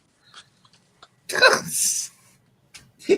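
A single sharp sneeze bursts out close by after a quick inhale, followed by quiet breathing and a faint murmur.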